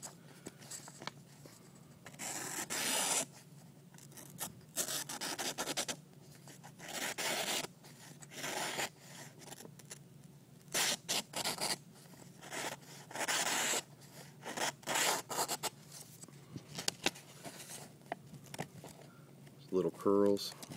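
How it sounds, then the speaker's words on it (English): A freshly sharpened Swedish convex-edge knife slices paper into curls in a series of quick crisp rasping cuts separated by short pauses. A voice speaks briefly near the end. "Just end off here with a little cutting demo on this new convex edge."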